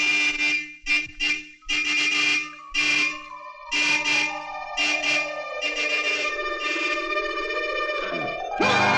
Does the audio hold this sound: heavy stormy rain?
no